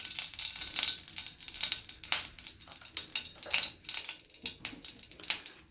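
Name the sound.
ghee heating in a pan for frying paneer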